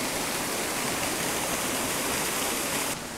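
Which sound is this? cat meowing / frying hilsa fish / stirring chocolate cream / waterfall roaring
waterfall roaring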